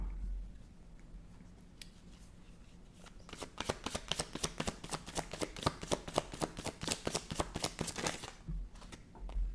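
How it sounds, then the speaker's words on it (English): A deck of cards being shuffled close up: a quiet start, then a long run of rapid, evenly spaced riffling flicks, and a brief pause near the end. No one speaks. "if 7 don't fall out as I shuffle and I get 2 dry shuffles, I stop."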